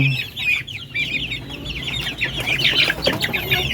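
A pen of hungry young breeder chickens raised on commercial feed cluck and chatter continuously in overlapping calls, close and fairly loud, with no talking.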